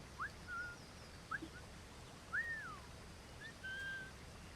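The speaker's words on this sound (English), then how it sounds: "I can whistle." A character in the video game Assassin's Creed Black Flag whistles a short series of clear tonal notes: a few quick chirps and gliding, drawn-out whistles spread over several seconds against a quiet background hiss.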